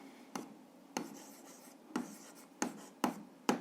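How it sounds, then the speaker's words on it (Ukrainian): Pen strokes writing out a 7th-grade algebra answer on paper, a series of short scratchy marks in bursts with pauses between, close and quiet, no talking. "Записуємо тоді, що чи є лінійною функція, записуємо так."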